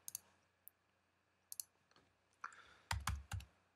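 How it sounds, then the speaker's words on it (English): A computer keyboard is typed on in short bursts, with sparse light clicks at first and then a cluster of louder, heavier key presses near the end, close up with no talking. "let me type my full name"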